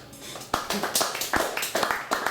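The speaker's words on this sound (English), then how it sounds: "Everybody, at the same time, clap me 2 bars of quavers." A group claps two bars of steady quavers together in a workshop, sharp even hand claps in a quick regular rhythm, close and fairly loud.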